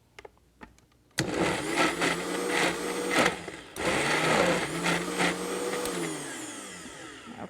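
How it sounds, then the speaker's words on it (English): A powerful Vitamix blender whirs loudly at full speed for several seconds, briefly pausing and restarting, after a few light clicks and taps in a home kitchen. "it's a little bit harder for a Vitamix to make the smaller amounts, simply because this is a very powerful blender"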